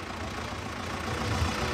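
A British-origin tractor running during an evening tractor parade, a steady low engine rumble at moderate distance with no talk over it.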